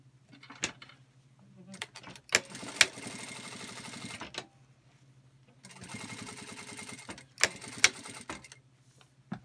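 Singer industrial sewing machine stitching through a bag's seam allowances, two sustained bursts of rapid mechanical stitching with sharp clicks at the start and end of each run, close and fairly quiet, separated by brief pauses.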